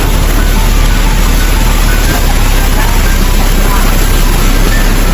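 Loud, roaring typhoon wind blasting continuously without letup, a dense rushing noise that fills everything like a storm hitting the microphone.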